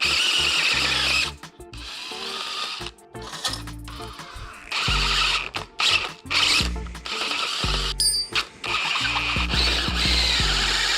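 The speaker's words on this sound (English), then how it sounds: "we're gonna drill the ruined hole out to that size" A power drill bores out a damaged threaded hole in a Subaru STi brake caliper, whining in repeated bursts that start and stop with grinding bite, close and loud between short pauses.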